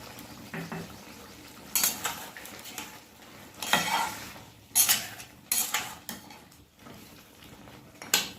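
Chicken cooking in a pan with cashew paste stirred in gives off a quiet sizzle under repeated scraping and clinking of a spoon against the pan, close by, with no voices.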